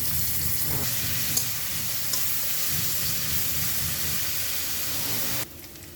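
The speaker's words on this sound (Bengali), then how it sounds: "পেঁয়াজ দিয়ে দিলাম। এখন 3-4 চামচ পরিমাণ সরিষার তেল দিলাম।" Onions frying in a few spoonfuls of mustard oil give a loud, steady sizzle and hiss with faint stirring clatter, running unbroken until it drops away abruptly near the end.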